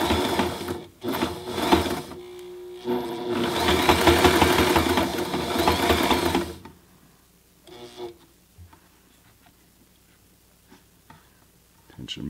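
A Sailrite Ultrafeed LSZ1 sewing machine stitches through thick fabric or leather in a loud, steady run of rapid needle strokes lasting several seconds, with brief starts before it, then it stops and only faint handling sounds follow.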